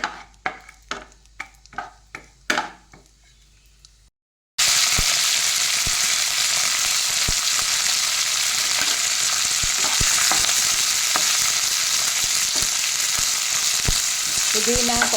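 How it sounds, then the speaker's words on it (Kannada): Cashews frying in two spoons of ghee for methi leaf pulao, first a few sharp clinks and stirs, then a sudden loud, continuous sizzle with occasional scraping, close up. "2 ಚಮಚ ತುಪ್ಪ ಹಾಕಿಕೊಂಡಿದೆ. ಗೋಡಂಬಿ ಹಾಕಿ ಹುರಿಯಬೇಕು."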